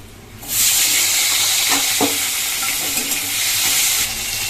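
Tomato hits hot oil seasoned with panch phoron and erupts into a loud, sustained sizzle and spatter after a brief quiet start, close and unbroken to the end.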